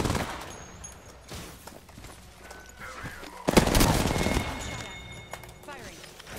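Rapid bursts of video game gunfire from a ranked match, loud, dense volleys that crack and boom, most intense around the middle, with voices talking underneath.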